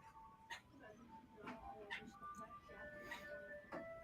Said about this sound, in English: Oh, now I hear an ice cream truck.